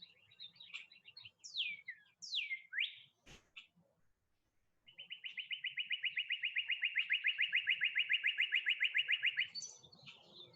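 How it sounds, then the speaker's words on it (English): A bird sings outdoors, starting with a few separate sharp chirps and then breaking into a long, loud, rapid trill that lasts several seconds before fading, with no talking over it. "Got a very happy bird out there."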